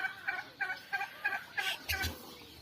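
Turkeys gobble in a rapid rhythmic series of about seven close, fairly loud bursts, the last two louder and fuller.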